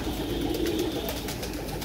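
Tiger Breed pigeons coo nearby in a low, throaty, repeated call, with rustling and small knocks around them.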